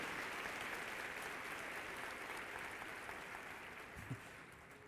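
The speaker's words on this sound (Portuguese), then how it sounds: "Dê um aplauso ao nome do Senhor Jesus." Church congregation applauding steadily at a sermon, a dense, even wash of clapping filling the whole stretch and easing slightly toward the end.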